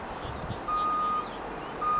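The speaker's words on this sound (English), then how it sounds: "A truck that's going to shovel away the snow." Steady electronic reversing beeps from a snow plow truck clearing snow after a blizzard sound faintly in the distance over outdoor wind noise.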